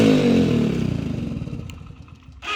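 A Yamaha RX100 motorcycle fitted with a modified silencer, run without a spark plug, turns over and then dies: a loud rumbling start that breaks into rapid pulsing chugs and fades, followed by a brief clatter.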